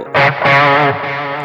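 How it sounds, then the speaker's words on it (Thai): A short burst of distorted electric guitar solo tone through a BOSS ME-25 multi-effects unit rings out, bending upward and sustaining with a thick, processed edge. "นี่เสียงโซโล่"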